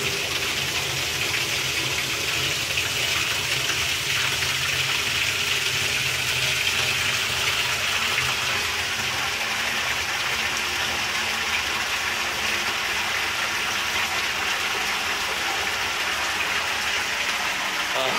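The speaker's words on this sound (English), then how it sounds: "that is a lot of fucking water going into that 90-gallon" Water gushes steadily into a 90-gallon aquarium, a broad, continuous rushing roar that holds level throughout without pause.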